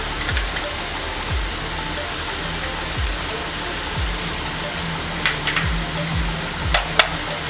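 Ground coriander, red chilli and other spices fry in a pan for a tawa burger filling, sizzling steadily up close with soft scraping stirs throughout.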